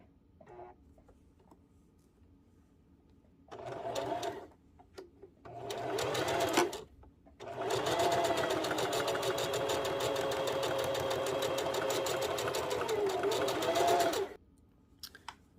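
A sewing machine stitches fabric closed over a hole in a button-adjustable bonnet, running in quiet, close bursts: a short run, a brief pause, another short run, then a long steady whir before it stops.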